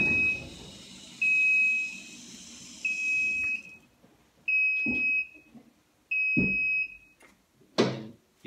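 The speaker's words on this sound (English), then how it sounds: "It'll set an alarm off as well." A single post vehicle lift's safety alarm sounds five times as steady high beeps, each about a second long and spaced evenly apart, with mechanical clunks between them in a quiet workshop.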